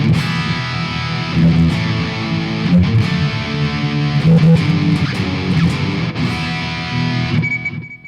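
An electric guitar plays through a NUX MG-101 multi-effects unit set to high gain, giving loud, heavily distorted sustained chords with brief breaks between them, ringing out alone.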